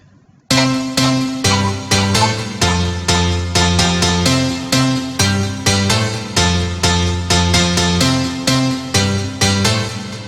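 A bright, piano-like synthesizer in FL Studio plays a steady rhythmic melody of repeated chords for a house track, loud and upfront, with no talking.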